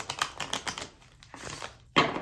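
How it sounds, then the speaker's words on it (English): Circular oracle cards are shuffled by hand in quick, crisp riffling bursts, several close rapid flicks followed by a pause and a final sharp burst. "prepare to see some tragic circle shuffling"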